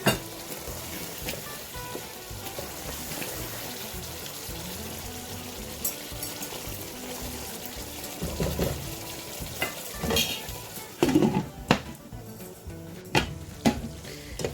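Chicken makhni handi with butter sizzles over a medium flame, a steady close frying hiss with occasional stirring scrapes and utensil clinks toward the end.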